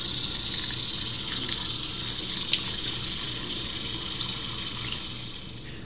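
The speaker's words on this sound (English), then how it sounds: "And just with a little cold water, you want to fill it up just to cover it." Cold tap water pours into a pot of salted potatoes, a steady mid-level gushing stream that runs continuously and tapers slightly at the end, with no talking over it.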